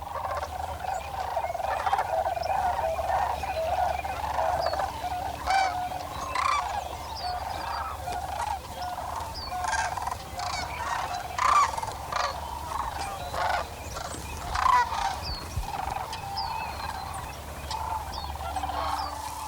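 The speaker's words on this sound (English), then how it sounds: "playing host to such natural wonders as the great flocks of sandhill cranes" A great flock of migrating sandhill cranes calls over open country, a continuous chorus of rolling, trumpeting cries from many birds at middle distance, with individual calls rising above the massed din.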